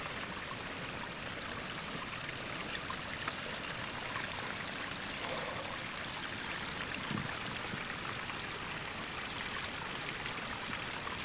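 Water pours down a small rocky mini waterfall in a steady, unbroken rush, close by and fairly loud, with no voices over it.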